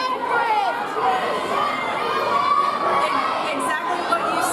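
A convention panel audience shouts and chatters all at once, a dense, loud crowd roar with overlapping voices and scattered cheers that holds steady throughout.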